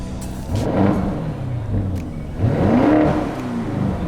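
A Lamborghini Urus engine revs up twice, each surge rising into a deep, growling roar before easing back to a rumbling idle.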